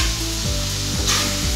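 Potato pieces frying in a hot pan with spices and cauliflower give off a continuous close sizzle, with a few soft stirring scrapes.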